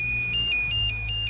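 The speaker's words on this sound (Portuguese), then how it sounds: "alarme sonoro de luzes acesas, né?" A 1995 Chevrolet Vectra GLS lights-on warning chime beeps in a quick steady pattern, several evenly spaced tones over a low idle hum.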